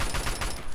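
Gunfire in the video game Fallout 3: a short, loud, dense burst of shots packed closely together, with no talking over it.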